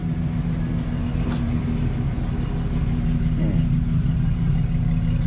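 A truck's engine, probably a 5.3 V8, idling at a dealer auto auction, a steady low rumble at moderate level with a faint tick partway through and no talking.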